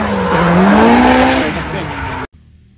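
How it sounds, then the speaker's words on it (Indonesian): A NASCAR race car engine howls and its tires squeal for about two seconds, loud and close, then cuts off abruptly to near silence. "Di sini ada mobil NASCAR."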